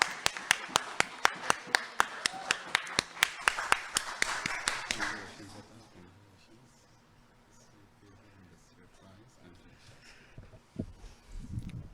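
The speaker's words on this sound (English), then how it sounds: "Give a big applause." Sparse, crisp hand claps from a small audience at a Ramadan quiz award ceremony ring out for about five seconds, then fade to quiet room noise with a few scattered taps and faint voices.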